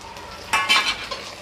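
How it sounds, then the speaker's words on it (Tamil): Onions sautéing with ground ginger-garlic paste in a pan give a low sizzle broken by two quick, bright stirring scrapes in close succession, then a softer hiss. "நல்லா வதக்கி எடுத்துக்கோங்க."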